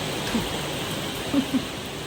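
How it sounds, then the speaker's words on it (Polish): Steady, dense hiss of heavy rainfall in Wasdale in England's Lake District, close and constant, with a few faint murmurs of voices underneath. "Strasznie pada."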